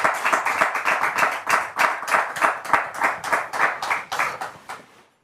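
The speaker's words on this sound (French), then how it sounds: "Merci de recevoir l'enfant en question sous vos applaudissements" An audience claps to welcome a child onto a French-language television show, a dense, rhythmic burst of many hands beating in pulses that taper and stop near the end.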